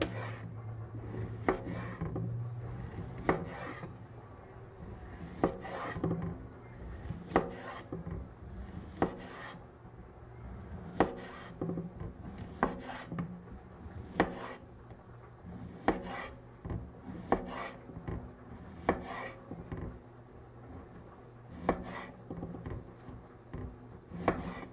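Chicken sausage sliced with a knife on a wooden cutting board, a long run of regular close chops and thuds over a soft rubbing background, no talking.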